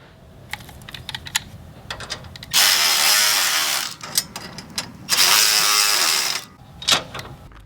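A ratchet tightens nuts on the bolts of a GrassFlap deflector on a Bradley stand-on mower, sounding as two long, loud, rapid clicking runs with scattered taps and clanks between them.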